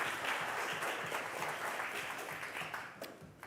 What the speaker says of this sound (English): Can we get a round of applause for Slappy?